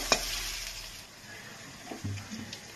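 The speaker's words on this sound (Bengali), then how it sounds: "পেঁয়াজটাকে একটু হালকা লাল করে আমি একটু ভাজবো।" Onion frying in a pan for a chicken gizzard and liver dish, a soft sizzle with occasional stirring scrapes and light clinks, close and fairly quiet.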